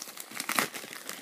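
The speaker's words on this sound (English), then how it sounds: "Get off packing tape." Packing tape being peeled and pulled off an Amazon package, a close, quiet crinkling rasp with a few louder tearing crackles around the middle, no talking.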